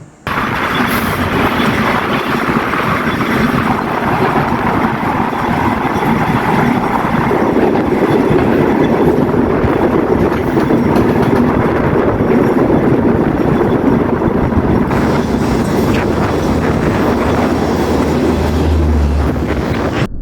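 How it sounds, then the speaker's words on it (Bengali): A train passes close by at Hili station near the India–Bangladesh border, a loud continuous rumble with rattling wheels and faint squeals that stays at full strength throughout. "অন্য পাশ দিয়ে আবার ট্রেন চলে আসলো"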